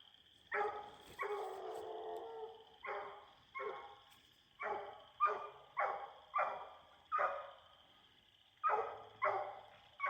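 A hunting dog bays at a treed animal at night, a long run of loud, sharp barks in an uneven rhythm with brief gaps between bursts, carrying over an otherwise quiet woodland.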